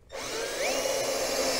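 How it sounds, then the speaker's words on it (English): A power drill bores holes with a small bit into a 2019 Ski-Doo Expedition snowmobile to fit an axe mount, a loud steady whine that rises in pitch after starting, heard alone. "We're going to start off with drilling the same drill bit we used to open up the holes"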